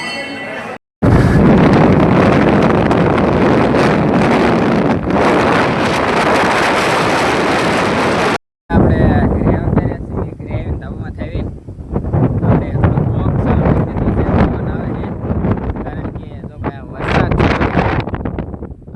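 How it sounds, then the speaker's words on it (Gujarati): Strong wind buffets the microphone on a rooftop terrace near the Chotila Chamunda temple, a loud roaring rush broken by brief gaps, with a person talking over the gusts in the later part. "જો ભાઈ ધાબામાં પવન આવતો"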